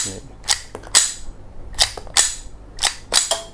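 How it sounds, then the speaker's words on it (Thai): SUR M9 blank pistol firing a series of sharp, loud cracks with the slide snapping back, roughly seven shots in uneven pairs and singles close by against a faint background hum. "เวลายิงเหนียวไกลยิงแล้ว สไลด์จะถอยหลัง"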